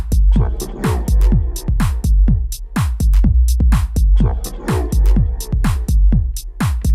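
A deep house drop built in Ableton pounds along with a loud, punchy kick on a steady four-on-the-floor pulse under chopped house vocal samples. It plays close and full without any talk.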